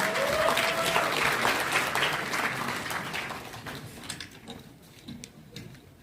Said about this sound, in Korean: 역시 큰 박수로 무대 위로 모시겠습니다